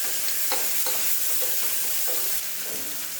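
Chopped tomato drops into hot oil in a pressure cooker pot for seeraga samba chicken biryani, giving a loud, close, continuous sizzle with bubbling crackle and no speech.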